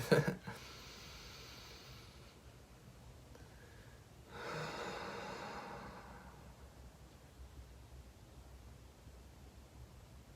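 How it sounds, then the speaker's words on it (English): Two long breaths of air, a soft hissing inhale followed by a broader, louder rushing exhale, heard close up against quiet background noise during a guided meditation. "Just take a deep inhale through the nose and out the mouth."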